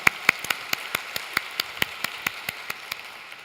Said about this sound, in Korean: 우리 하나님께 감사 영광의 박수 올려드리겠습니다